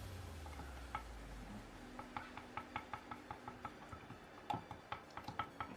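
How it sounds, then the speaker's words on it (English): Paint stirred in a cup, a series of soft, fairly regular taps and scrapes of the stirrer against the sides, close but faint, with no voices. "we're just going to stir the paint and see what comes out"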